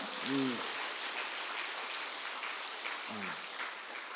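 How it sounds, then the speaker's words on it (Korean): Warm applause from a church congregation for a visiting lecturer at a New Year revival meeting, a dense sustained patter with a brief voice sounding twice over it. "박수 한번 뜨거운 박수 부탁드립니다"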